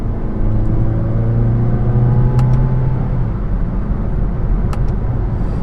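A 2016 Mazda6 four-cylinder in sport mode accelerates with a steady, loud engine drone and road rumble heard from inside the car, its pitch climbing gently before levelling off.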